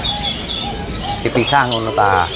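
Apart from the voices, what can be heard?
zebra doves cooing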